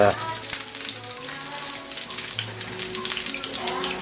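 Salmon cakes start frying in a pan, a rising close sizzle and hiss with some clatter and a faint tonal hum, under little or no speech.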